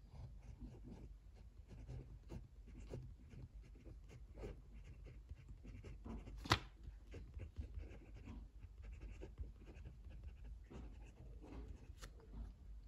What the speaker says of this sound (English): Let's do a writing sample now with the Fountain EDC from Big Idea Design.